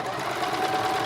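A domestic sewing machine stitches a skirt seam in a steady, rapid whirring and tapping run, close and continuous without a break.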